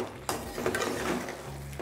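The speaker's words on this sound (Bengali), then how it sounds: "এবারই সব কিছুকে মিশিয়ে নিলে আপনাদের লিভার ফ্রাই কিন্তু পারফেক্টলি রেডি" Chicken liver fry being stirred in a pan, a dense close sizzle with a few scraping utensil strokes and a low rumble, short and steady.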